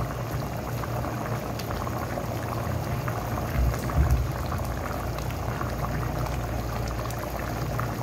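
A pot of pea pulao rice with the water boiling off, a continuous dense bubbling and hiss throughout, close and steady with a brief louder burble midway, no talking.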